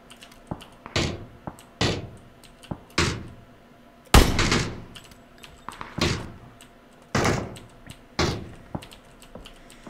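Sharp knock-like impacts in the video game PUBG, loud and irregularly spaced with short decaying tails, over a quiet background.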